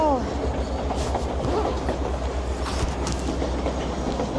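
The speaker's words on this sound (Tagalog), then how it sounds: "Tourist train." A tourist train on a scenic route in Alaska rumbles past steadily and fairly close, its low rolling noise and faint clatter continuing throughout while people talk and exclaim over it.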